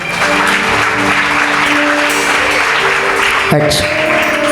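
Loud, dense applause from a church congregation at a prayer gathering's grand finale, sustained clapping filling the room throughout with a voice briefly heard over it.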